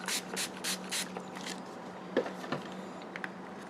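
Several quick hissing spritzes from a spray bottle come in a rapid series, followed by faint rustling and small handling sounds nearby.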